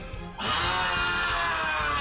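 A person's voice imitating a kobold howling out during a fantasy tabletop game, a sudden loud, sustained raspy screech that starts abruptly and holds steady to the end.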